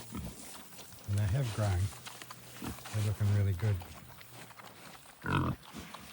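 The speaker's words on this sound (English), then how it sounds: "Aren't those pigs the noisiest things?" Pigs on a farm grunt and squeal loudly in several harsh bursts, close by, while a person talks between and over the noise.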